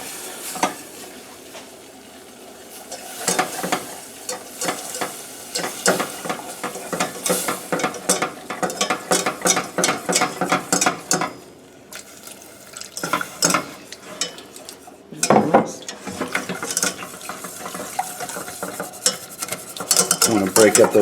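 Milk is worked into a toasted butter and flour roux, with rapid rhythmic scraping and clacking of a utensil against the pan in bursts, close and fairly loud, briefly pausing before resuming.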